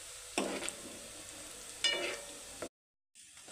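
Mutton pieces sizzle and fry in a pan while being stirred, with two distinct scraping stirs over a steady close crackle before the sound abruptly cuts out and resumes.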